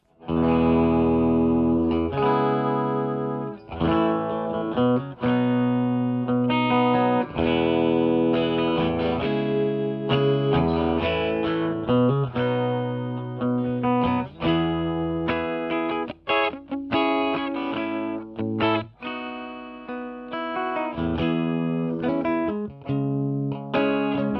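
An electric guitar plays through a Peavey Stereo Chorus 212 amplifier with two 12-inch speakers for a long stretch, chords and riffs with distortion and chorus-like shimmer, loud and continuous without talking.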